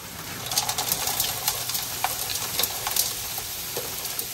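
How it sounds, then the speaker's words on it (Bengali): Onion and capsicum frying in a pan give a steady, close sizzle with scattered crackles and pops, faint bird coos in the background. "পেঁয়াজ আর ক্যাপসিকাম একসাথে দিয়ে দিব"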